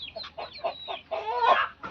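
Young rooster chicks of good breeding quality cluck in short, repeated bursts, close and fairly loud, with brief pauses between calls and no talking.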